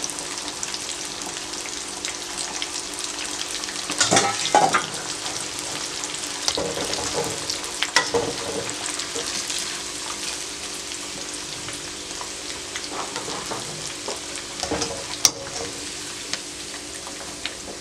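Chickpeas fry in a pan of hot oil for spicy chili chana, giving a steady, close sizzle with occasional louder pops and crackles throughout.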